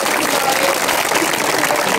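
An audience applauds a street theatre sketch, a dense, steady wash of clapping that stays loud and close for the whole stretch with no break.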